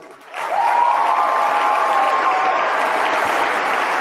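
A large audience at a political speech erupts into a sustained, loud, even roar of crowd noise that rises quickly and holds steady without letting up.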